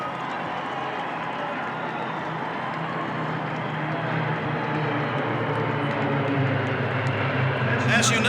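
A formation of aircraft trailing exhaust smoke passes at an air display, a broad, rising engine roar that swells steadily louder as it draws near, with a crowd and public-address talk blending underneath.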